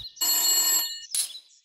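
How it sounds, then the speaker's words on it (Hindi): A telephone bell rings in two bright bursts, a longer ring followed by a short one, loud and close, with no one speaking. "तभी टेलीफोन बजता है।"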